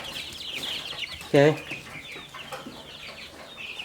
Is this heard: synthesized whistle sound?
no